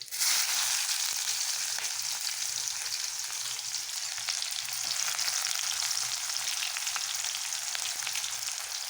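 Garlic and onions fry in hot oil for a pumpkin curry, a steady, dense sizzle that holds evenly for the whole stretch with no voices.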